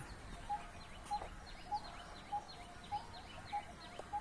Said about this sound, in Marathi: तिथले पक्षी